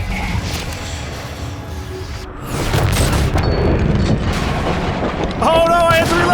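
Heavy gunfire and explosive booms from the PC video game Prey: loud, dense blasts and crashes that stop briefly, then swell into sustained firing with metallic mechanical clanks.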